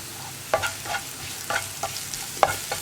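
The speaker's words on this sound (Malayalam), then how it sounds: "സവോള ഒന്ന് കളർ ചേഞ്ച് ആയി വരുന്നത് വരെ നമ്മളൊന്ന് ഇളക്കി കൊടുക്കുക" Sliced onions frying in a pan for carrot and plantain mezhukkupuratti are stirred with a spoon, giving a few distinct scraping knocks over a quiet, soft sizzle.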